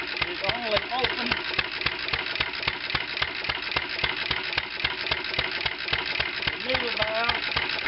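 A 1920 International Type M engine with bad valves runs steadily up close, its rapid regular firing beats continuous throughout while someone talks over it.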